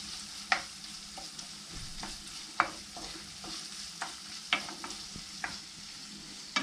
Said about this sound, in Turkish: Şöyle bir karıştırıyorum cevizi.